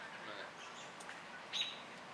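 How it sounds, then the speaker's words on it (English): Wild birds chirp in a Florida yard in winter, with faint, scattered tweets and one slightly clearer chirp against quiet outdoor background. "We have a lot of birds in the yard."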